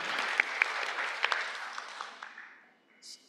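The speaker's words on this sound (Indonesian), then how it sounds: "Jadi mungkin kita beri aplaus kepada para panelis kita." Audience applause for conference panelists in a seminar hall, a steady burst of clapping with a few sharp close claps that thins out and fades over a few seconds.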